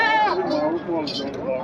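A goat bleats repeatedly with a wavering cry at a busy livestock market in Mansehra, close by, while people talk over it.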